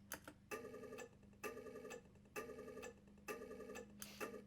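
A guitar pick flick stretched through Ableton's time warp turns into a weird, glitchy percussive artifact: five loud, evenly spaced bursts, each a buzzy, ringing tonal stutter with bright tops, repeating in a steady rhythm.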